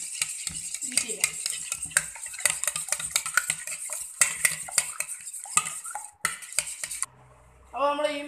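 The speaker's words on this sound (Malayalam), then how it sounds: "നല്ലപോലെ ഒന്ന് സ്പൂൺ വെച്ച് നമുക്കൊന്ന് നല്ലപോലെ ഒന്ന് ബീറ്റ് ചെയ്യാം." A spoon rapidly beats vanilla cake batter with vegetable oil in a bowl, giving a close, busy run of clinks and scrapes; it stops briefly near the end, where a short voice is heard.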